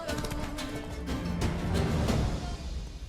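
Galloping horse hooves in The Witcher 3, a steady clip-clop rhythm under a busy game soundtrack, close and continuous with faint bird chirps in the background.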